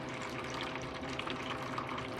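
Water streams steadily from opened chilled still and sparkling taps on a hydraulic carbonation tank system, an even rushing flow with no talking.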